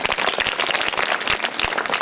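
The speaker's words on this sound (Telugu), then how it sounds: "కంపెనీ వాళ్ళకి చప్పట్లు కొట్టాలి" An audience of school students and Rotary Club members at a bunk bed donation event at a KGBV school applauds, giving a dense, steady patter of many hands clapping together.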